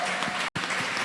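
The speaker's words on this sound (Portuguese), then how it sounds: "Uma salva de palmas para ele" Applause from a youth church service congregation welcoming a pastor; brief dense clapping with a sudden cut in the middle.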